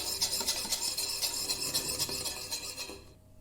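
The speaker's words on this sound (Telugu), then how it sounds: "మనం తీసుకున్న కర్డ్ని కొద్దిసేపు ఇలా మిక్స్ చేసుకున్నాము విస్కర్తో" A whisk beats half a cup of curd in a mixing bowl for Mysore bonda batter, a steady, close, rapid scraping and swishing rhythm that stops abruptly just before the end.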